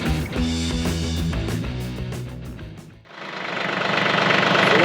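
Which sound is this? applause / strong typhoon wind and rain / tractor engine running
tractor engine running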